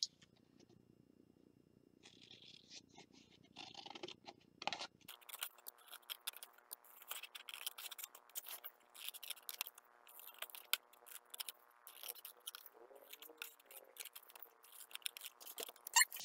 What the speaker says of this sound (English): I took my scissors and I cut this out.